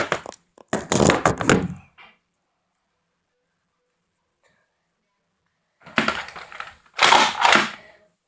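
A Nerf Mega Cycloneshock toy blaster is cocked twice, each a loud close plastic ratcheting crunch about a second long, separated by several seconds of silence.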